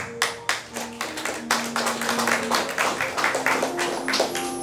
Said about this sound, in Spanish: vamos a brindar fuertes palmas para él, por favor